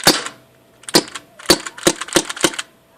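Six sharp, snappy shots from an unsuppressed Tokyo Marui MK23 gas airsoft pistol, close and crisp, spaced irregularly with short rattling tails, no talk over them.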